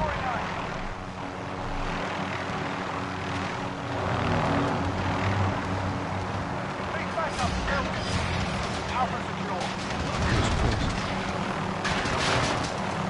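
Helicopter rotor and engine drone from the Modern Warfare Beta video game, a steady loud hum under near-continuous player talk and gameplay noise, with occasional gunfire.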